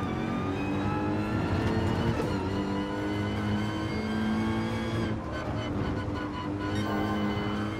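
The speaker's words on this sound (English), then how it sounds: "So, the sounds in GT Sport are actually pretty good. The cars sound pretty good." Car engine in GT Sport, a steady loud racing drone with rising and falling revs and gear changes, close and uninterrupted.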